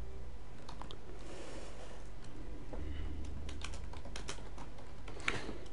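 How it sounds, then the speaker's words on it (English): Steady keyboard typing in the background of a game stream, a continuous patter of light clicks and taps at moderate volume with no voices. "Sorry if you can hear my typewriter in the background."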